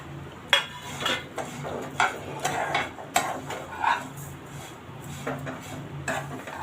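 Crushed vermicelli being roasted and stirred in a pan over a low flame for shevai kheer, with repeated sharp utensil clinks and scrapes against the pan over a faint sizzle.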